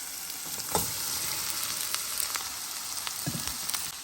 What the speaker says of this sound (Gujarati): અને હું મારા પરવર અંદર નાખી દઉં છું